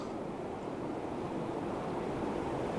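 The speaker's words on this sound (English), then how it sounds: "Can you hear the sea?" Steady broadband wash of sea waves from the seafront at Blackpool Pleasure Beach near sunset, a continuous even roar with some wind, no voices.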